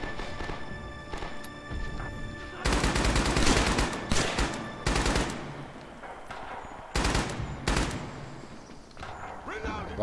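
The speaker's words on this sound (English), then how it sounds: "See if I can actually shoot it down." In the video game Rising Storm, a gun fires at a moving aircraft: loud automatic bursts, some several seconds long and some short, over steady battlefield noise.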